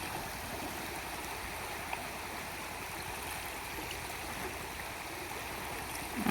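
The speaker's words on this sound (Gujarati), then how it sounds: "આમાં ઊભા રહી તો ફેર ચડે એવું તો પાણી જાય આમાં" Floodwater rushes strongly across a village farm field in Gujarat after heavy rain, making a steady, continuous roar with an even loudness throughout and no voices.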